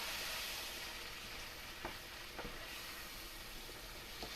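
Beef tips coated with flour sizzling in a hot pan, a steady close frying hiss with a few faint clicks of stirring, no voices.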